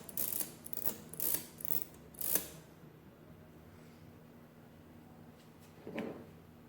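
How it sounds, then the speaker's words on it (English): Comptometer Model C mechanical adding machine with its key bar pressed so the mechanism ratchets forward, giving a few crisp mechanical clicks and clacks close up, then a quieter pause and one last click. "You can see as I push down, it ratchets forward, and then as I let it spring back up, it actually drives the wheel."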